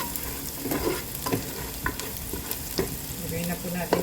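Garlic sautés in hot oil in a pan, giving a moderate, steady sizzle broken by a few stirring clicks and scrapes.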